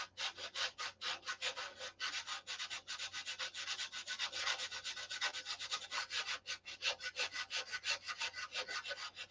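Hand sanding along the trailing edge of a Viper model airframe makes quick, rhythmic back-and-forth rasping strokes, close up and fairly quiet, repeating steadily throughout.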